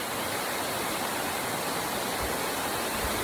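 A river flows over a rocky stream crossing on a nature trail in Bicol, a steady broadband rush of water, fairly soft and unbroken, with no talking.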